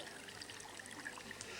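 Water pours steadily into a four-pint glass, a continuous trickling splash with a bright, airy hiss, fairly close and unbroken for the whole short stretch.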